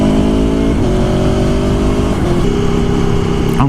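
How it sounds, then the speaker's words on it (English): An Aprilia Tuono 1100 motorcycle roars loudly and continuously while being ridden, its engine note rising through the revs with brief dips at gear changes, close and steady, with no talk. "I'm riding a lovely bike, make some serious sounds"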